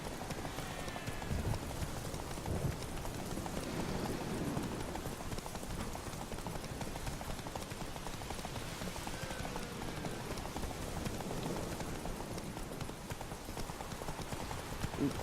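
Hooves clip-clop steadily as a horse gallops in The Witcher 3: Wild Hunt, a fast continuous rhythm heard fairly faintly over a soft ambient background with light patter.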